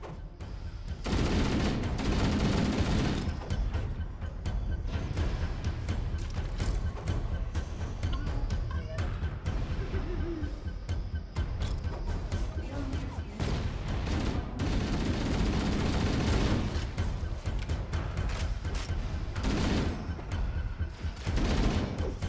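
Heavy shotgun and weapon fire fills a Halo battle, with loud repeated blasts and booms over a constant dense din, continuing without letup for over twenty seconds.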